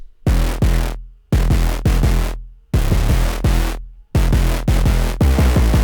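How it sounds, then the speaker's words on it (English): Four layered bass parts stacked in a Logic Pro X session, playing loud, sustained low notes in separated phrases, each note struck hard then decaying, with short silences between groups and a busier run of repeated notes at the end. "here's what those 4 bass layers sound like"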